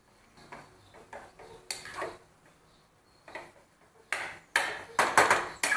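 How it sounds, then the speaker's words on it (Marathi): A spoon smashing boiled potatoes for bread pakora filling, clinking and scraping against a metal pan in irregular bursts, close and sharp, growing busier and louder toward the end, with no talk. "तर हे बटाटे आहेत थोडेसे असे चमच्याने स्मॅश करून घ्यायचे"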